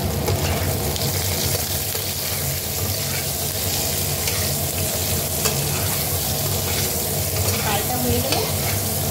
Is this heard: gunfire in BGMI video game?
no